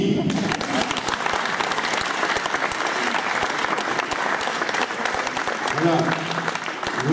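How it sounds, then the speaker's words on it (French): Guests at an academy induction ceremony in Honfleur applaud the VIPs, continuous dense clapping from a sizeable crowd, with a few voices and murmurs rising beneath it near the end. "je vous propose de les applaudir."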